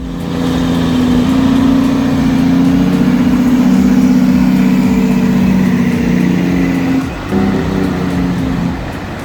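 A heavy log hauler truck engine labouring under load, a loud continuous low drone with a steady rumbling tone that dips briefly near the end, no talk.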